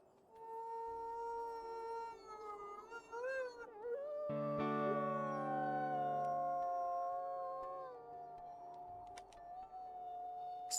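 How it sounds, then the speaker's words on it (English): Wolf howl in the WolfQuest video game: long sustained tonal howls rising and falling, a second lower voice joining midway, loud and close, with no talk over it. "I think we're gonna go ahead and do a howl here."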